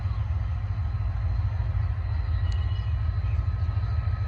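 A train approaches slowly, heard as a steady, heavy low rumble that stays loud and even throughout, with faint metallic whines above it and no voices.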